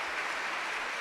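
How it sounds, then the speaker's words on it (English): A burst of audience applause at a Saturday morning conference plenary, a dense, even patter of clapping filling the whole brief moment with no voices. "Always leave them with applause."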